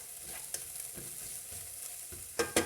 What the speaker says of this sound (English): We'll just give this a little stir.